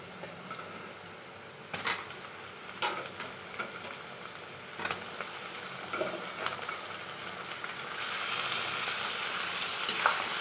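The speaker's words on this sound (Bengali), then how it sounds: "মাংসগুলো দিয়ে আমি কিছুক্ষণ নেড়ে নেবো, ভালো করে তেলের উপরে ভেজে নেবো 5 মিনিটের মতো" Chicken pieces sizzling in hot oil with onions, bay leaf and whole cumin, a steady frying hiss broken by sharp scraping clacks of a spatula stirring the pan, growing louder toward the end.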